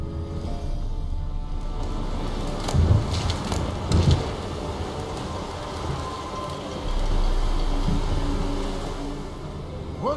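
Steady rain falling in The Witcher 3, a constant broadband hiss of drops on surfaces with a few louder splashes and low rumbles, no talking over it.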